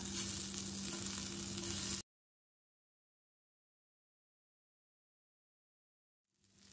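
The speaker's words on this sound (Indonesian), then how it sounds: "satenya kita bakar ya" Pre-boiled Betawi sate lemak skewers sizzling over a grill, a short, quiet crackling hiss that cuts to silence and then faintly returns at the very end.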